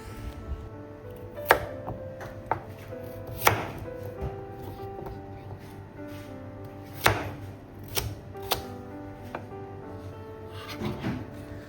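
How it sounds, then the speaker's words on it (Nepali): A knife dices a carrot on a cutting board for sambar, with scattered sharp thunks, some single and some in quick pairs, close and fairly quiet over a soft kitchen background. "सबभन्दा पहिले मैले एउटा गाजरलाई डाइस गर्न गइरहेको छु"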